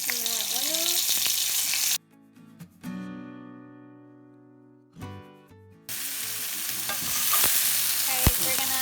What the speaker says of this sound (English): So now we're gonna add the squid to the oil.